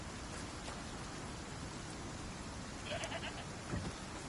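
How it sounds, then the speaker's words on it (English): A goat bleats in the survival video game Icarus, two brief, faint calls near the end over steady, even rainfall that fills the whole scene. "I hear you, goat."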